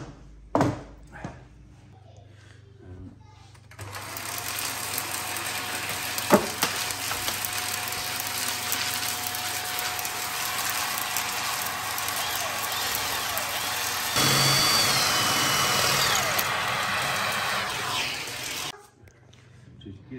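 A drill bores holes into a home wall, giving a steady, close whirring roar that runs for about fifteen seconds and shifts slightly in pitch partway through before cutting off.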